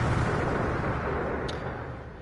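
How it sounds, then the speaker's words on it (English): Continuous roaring blasts of explosions in the video game Code: Realize -Guardian of Rebirth-, a dense, loud rumble with no pauses that slowly fades slightly toward the end. "Explosions go off, one after another."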